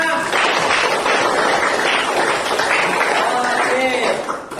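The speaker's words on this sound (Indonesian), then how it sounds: "Tepuk tangan untuk kita semua" Classroom applause as a teacher's pupils clap together, a dense steady patter filling the whole stretch at close range before tapering at the end, with voices mixed in.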